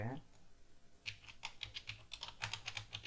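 Typing on a computer keyboard during photo-editing work: a quick run of light, close key clicks in irregular bursts after a brief voice at the start.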